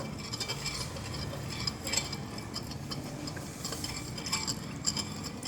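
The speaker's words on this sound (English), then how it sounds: "Next thing we have sugar crystals. So we put this and mix this." Sugar crystals are stirred into water in a glass, giving faint, irregular clinks and ticks of a spoon against the glass. Nobody speaks.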